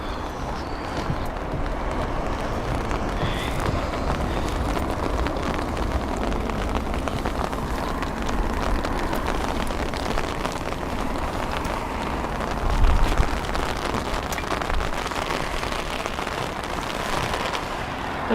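Heavy rain pours steadily at London Heathrow airport, a dense continuous hiss and patter that stays loud and even throughout, with a brief low rumble partway through.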